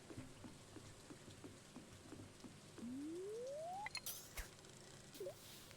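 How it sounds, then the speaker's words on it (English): Rain falls by the ocean in the video game Stardew Valley, a soft steady patter throughout, with a rising synthetic tone and a few brief game chirps over it. "We're just gonna sit here and enjoy the rain down by the ocean"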